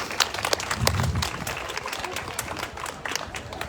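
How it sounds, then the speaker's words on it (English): Audience applause at a Lebo Pride celebration, a dense wash of clapping that holds steady for a few seconds at moderate volume, with crowd noise mixed in. "you can still clap"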